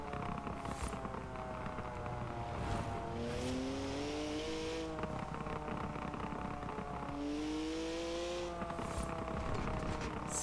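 Engine note of a car in Forza Horizon 4, played on a Logitech G920 wheel with a new shifter knob, falling and rising as the throttle is lifted and reapplied, with a brief tire squeal over steady, loud racing game audio.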